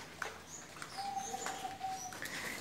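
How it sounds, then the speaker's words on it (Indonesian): A caged zebra dove, perkutut bangkok, gives a short soft coo with a few thin chirps, heard at moderate distance over a faint background. "anak perkutut bangkok itu Pak"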